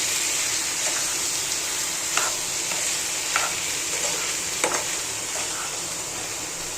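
Paneer bhurji with onion and tomato fries gently over a low flame, a steady soft sizzle with occasional faint scrapes of stirring, no talking.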